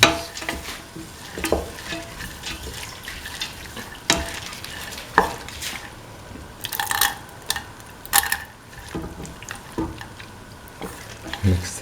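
A spoon works lentils through a frying mixture for lentil carrot rice, repeated scrapes and clacks against the pan over a constant wet sizzle, with some wetter splashy stirring in the middle.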